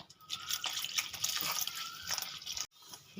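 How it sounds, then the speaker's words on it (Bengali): Water trickles and splashes into a bowl of dry malpua batter ingredients for kheer malpua, a light continuous pouring close by that stops abruptly near the end. "জল দেব"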